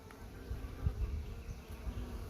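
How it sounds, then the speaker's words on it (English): A caught honey bee swarm hums inside a hive box at a camp, a close and steady low buzz with slight swells and no voices. "There's a decent amount of bees in there."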